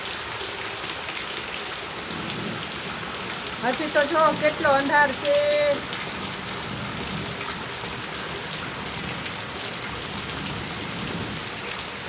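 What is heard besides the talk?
heavy rain falling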